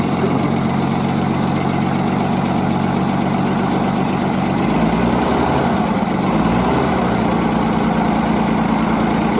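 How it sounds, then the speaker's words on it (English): Century-old sawmill engine idling as it warms up, a loud, steady close-up rumble with a rough, knocking pulse and a brief deeper surge midway, running alone without talk. "It's like a truck engine."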